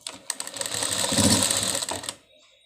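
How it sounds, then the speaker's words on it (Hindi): A sewing machine stitches over a button seam in one short, close burst of rapid mechanical clatter lasting about two seconds, then stops abruptly. "बिल्कुल उसी सिलाई के ऊपर से सिलाई लगाते मुझे जाना है। ऐसे कर करके दबा के मैं सिलाई लगा लूँगी।"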